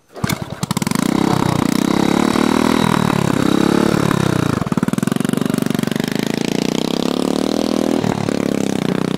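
Motorcycle engine held at high revs while climbing a rough, difficult mountain road in fog, a loud, continuous close-up drone with a brief dip partway through and no talk.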